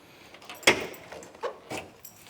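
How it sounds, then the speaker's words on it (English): A trunk lid being opened on a 1968 Chevrolet Camaro SS-style convertible, one sharp latch clunk followed by softer thumps and rattles of the lid lifting, close by with no talk. "Let's open up the trunk."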